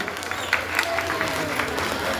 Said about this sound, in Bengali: জোরে একটি হাততালি প্লিজ